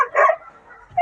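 A young male puppy, under a year old, gives a short sharp bark followed by a softer yip, close and loud, in a brief one-second burst.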